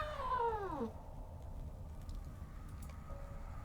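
A cat in the online game Lord of the Rings Online gives one short, close meow at the very start, followed by quiet background hum.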